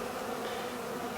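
Honeybees buzz steadily around a residential hive during a cutout, making a dense, continuous drone that sounds close and fairly quiet, with no talking.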